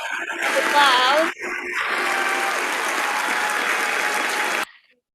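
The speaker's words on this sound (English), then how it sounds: "Let's give all applause." Loud, dense audience applause greets the winners of a food product development competition, a brief burst followed by a sustained, steady wave of clapping that cuts off abruptly.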